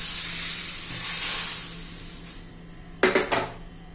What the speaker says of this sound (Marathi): आता हे वरून तडका देऊया.